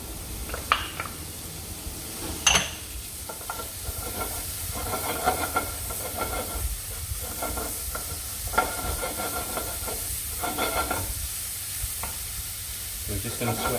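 Chopped garlic and bacon sweat and sizzle in a hot pan, a steady close frying hiss broken by repeated stirring scrapes and clicks from a utensil, with no talk over it.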